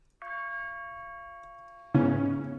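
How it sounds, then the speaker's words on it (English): Church bells in a video game volcano dungeon music composition: one clear bell strike rings with a sustained, slowly fading tone, then a second, louder and fuller bell chime enters and keeps ringing, alone. "church bells"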